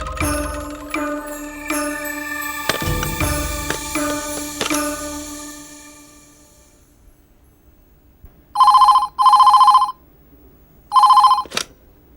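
A telephone rings in a Tamil TV serial scene, giving three loud electronic ring bursts, two close together and a third after a pause, following a fading musical passage.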